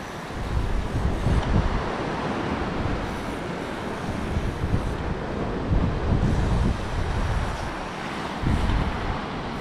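Ocean waves wash onto a beach with a loud, steady roar of surf and rushing water, mixed with gusty wind buffeting the microphone throughout.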